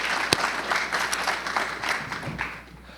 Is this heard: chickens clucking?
no